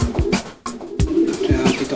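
A racing pigeon fitted with an electronic leg ring coos close by in a loud, low, throaty series, mixed with wing flutters and shuffling thumps in a busy loft full of other birds.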